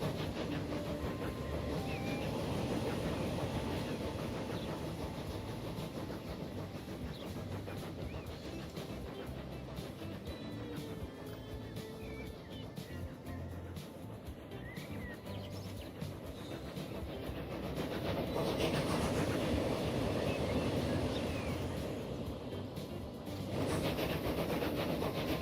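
A full freight train at top speed in the Transport Fever 2 simulation game, a continuous low rumble with faint rhythmic clacking and hiss, swelling slightly near the end, with no speech over it.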